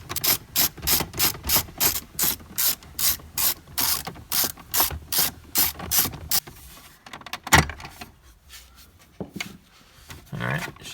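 A ratchet clicks in rapid, rhythmic bursts while removing 10mm bolts under the seat of a Toyota Tacoma. About twenty even strokes come close and loud, then it slows to a few scattered clicks and handling noises.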